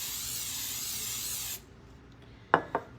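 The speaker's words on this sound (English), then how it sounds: "I'm gonna put a little bit of vegetable spray in here." Vegetable cooking spray hisses steadily into a bowl for a second and a half and then cuts off, followed by two short knocks as the can is handled.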